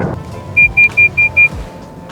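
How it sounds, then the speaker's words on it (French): Pre-collision warning alarm on a 2025 Toyota RAV4 plug-in hybrid: five short, evenly spaced high beeps in quick succession, clear and close over a low, steady cabin and road hum. "Ce que vous venez d'entendre, c'est le système pré-collision."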